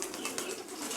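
A brief moment of pigeons in Mykolaiv: a soft, continuous cooing murmur close by, without speech.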